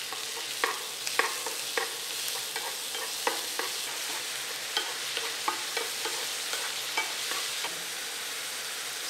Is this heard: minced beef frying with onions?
yes